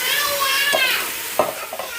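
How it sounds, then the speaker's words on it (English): Diced tomatoes dropped into a hot sizzling pan, a loud close hiss with a couple of scraping stir strokes, and no talking. "Next thing we're going to do is add our diced tomatoes."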